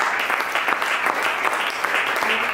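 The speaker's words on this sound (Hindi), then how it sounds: "उसके लिए ताली बजाएंगे" A Pentecostal church congregation claps together in steady, dense applause that is fairly loud and continuous, with a faint voice beneath it.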